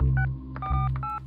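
Phone keypad tones beep in three short steady bursts over a low background hum, with no talking, as a number is dialled during a crime drama episode.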